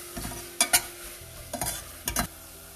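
Biryani masala with coriander powder, cumin powder and salt is stirred in a pan for kuska biryani, with three quick clusters of spoon scrapes and knocks over a faint sizzle.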